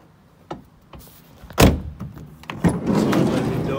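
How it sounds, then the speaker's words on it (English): The sliding side door of a Volkswagen Caddy 2.0 TDI van is worked by hand: a couple of light clicks, then a loud metallic clunk as the door shuts or latches, followed by rolling and rattling as it slides along its track. "Side-loaded door."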